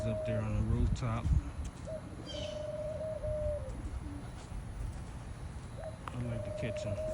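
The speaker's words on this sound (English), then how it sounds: "All the birds up there on the rooftop." Pigeons on a rooftop coo softly in low, rolling calls while a person talks nearby, with outdoor background noise throughout.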